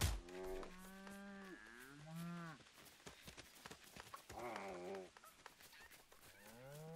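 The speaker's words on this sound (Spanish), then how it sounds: "¡Oigo! ¡Una vaca!" Cattle in the video game Lego Fortnite moo in several long, drawn-out calls, loud and close, with a few short clicks and game sounds between them and no talking.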